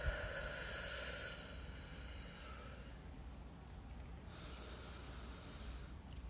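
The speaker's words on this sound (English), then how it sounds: "And just take a couple deep breaths now." Slow, deep breaths drawn in through the nose during a relaxation exercise, a soft airy hiss that swells and fades, close and quiet, with no talking.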